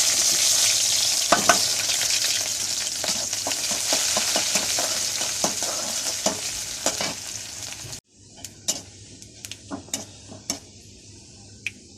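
Raw onion and garlic frying with panch phoron in a pan for a sour mango dal make a strong, steady sizzle with sharp stirring clicks, which drops to a quieter crackle with scattered ticks after a sudden break.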